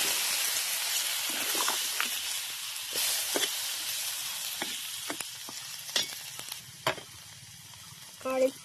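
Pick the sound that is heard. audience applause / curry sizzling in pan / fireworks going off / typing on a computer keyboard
curry sizzling in pan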